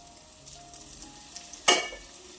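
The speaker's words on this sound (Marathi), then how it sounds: "बरं, परत साईडने तेल टाकायचं." Oil sizzles softly in a frying pan, a low steady hiss, then a sharp brief burst of crackle as more oil goes in near the end.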